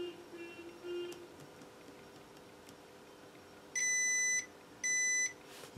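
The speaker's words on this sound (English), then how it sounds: "if these are obviously shorted out we should get some kind of beep in between them" A multimeter gives two short, clean beeps during a continuity test on an LG 42LH3000 TV's t-con board, each about half a second long, over a quiet room background.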